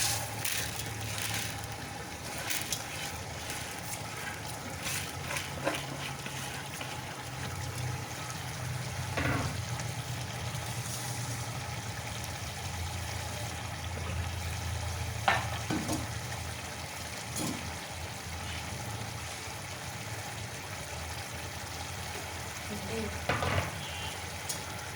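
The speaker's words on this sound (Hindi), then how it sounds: "ये चावल मैं डालने लगी हूँ।" Rice tipped into a pot and frying in a home kitchen, giving a steady low sizzle with soft stirring and scraping that runs throughout at moderate level, with a few brief clinks.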